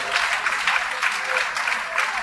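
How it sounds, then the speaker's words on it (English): An audience applauds at a public gathering held by the Lagos State Pension Commission, a dense, steady wash of many hands clapping at once, fairly loud and close throughout with no talk over it. "Please, can we all put hands together for all our participators?"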